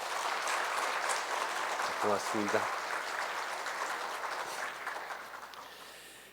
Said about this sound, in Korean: 우리 SCM의 감사와 격려에 큰 박수 하겠습니다.